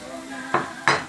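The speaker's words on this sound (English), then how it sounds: "keep stirring the onion and garlic" Onion and garlic being stirred in a pan, two quick scraping clinks of a utensil against the pan over a low background hum.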